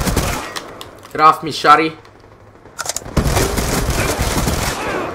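Gunfire rattles in Call of Duty: Black Ops 3 during an online match, with sharp shots in bursts alongside a player talking and a noisier stretch of fire afterward.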